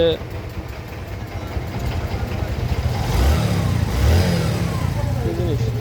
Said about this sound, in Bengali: আপনার বাইক কিন্তু রানিং